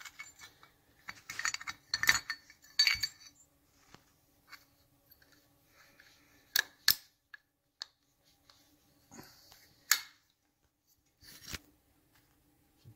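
Sparse light metallic clicks and clinks from a washer being handled during a 1971 Triumph Tiger 650cc motorcycle restoration, with scattered quiet taps and a few sharper ticks spread over a mostly quiet background.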